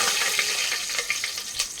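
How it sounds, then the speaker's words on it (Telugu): Bay leaf and spices sizzling in hot oil for mirchi ka salan, a steady close bright crackle with small pops and stirring scrapes, no voices. "ఇప్పుడైతే బిర్యానీ ఆకు వేస్తున్నాం"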